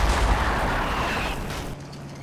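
Artillery fire in the Combat Mission war game, a loud booming blast with a long rumbling roar that fades out near the end, with no voices.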